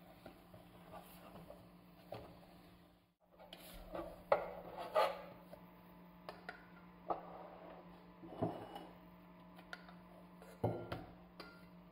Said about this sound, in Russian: Перемешиваем, чтобы остыло тесто.